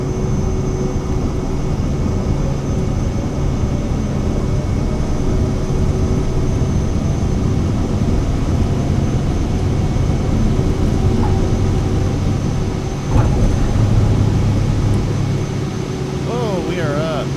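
An airliner's engines roaring during takeoff in Microsoft Flight Simulator 2024 at Amsterdam, a loud, steady broadband rumble that holds for the whole stretch, with a brief swell near the end.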